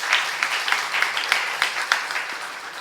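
A church youth congregation applauds during a Korean worship sermon, a dense, steady wash of many hands clapping with a few sharper accents, moderately loud and sustained with no talk over it.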